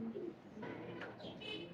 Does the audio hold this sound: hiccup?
no